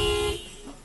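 A car horn gives one short, close honk that cuts off abruptly, leaving a faint background rumble.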